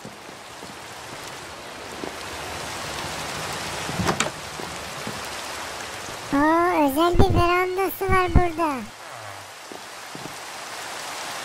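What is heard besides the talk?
rain falling in Minecraft video game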